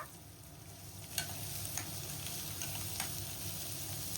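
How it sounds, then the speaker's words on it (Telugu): Onion pieces sizzle in hot oil in a kadai for jackfruit curry, a steady close frying hiss with a few light clicks and pops scattered through it. "ఆయిల్ హీట్ అయింది. ఇప్పుడు ఉల్లిపాయ ముక్కలు వేసేస్తున్నా."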